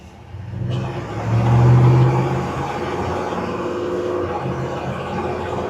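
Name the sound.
truck driving, tires on road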